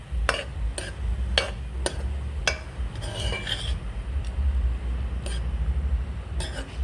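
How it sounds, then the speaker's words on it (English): Soya pepper chunks being mixed in a pot over low heat, a series of sharp metal spoon clinks and scrapes against the pot at an uneven rhythm, close and alone over a low background hum. "now I'm going to mix that"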